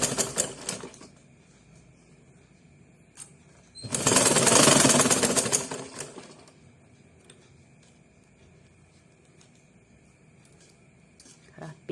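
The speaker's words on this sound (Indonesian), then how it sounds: "Baru masukkan ke mesin jahit." A sewing machine stitches a skirt slit in one loud rapid burst of a couple of seconds, set between quieter stretches of faint ticking and handling noise.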